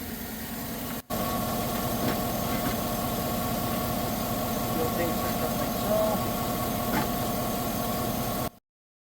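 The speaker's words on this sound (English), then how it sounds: "It may be loud due to the truck, but if it is, I'll mute it." A truck engine idles nearby with a steady, low, droning hum under a faint hiss, continuous for several seconds apart from a brief dropout near the start.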